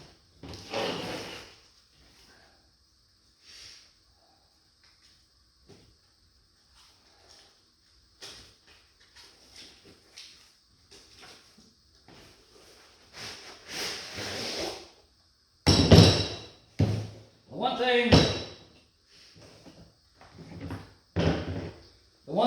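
A Quinn torque wrench from Harbor Freight being fetched in a workshop during an engine build, with scattered clunks and rustles, then several louder bangs and rattles as a case or drawer is handled, close by.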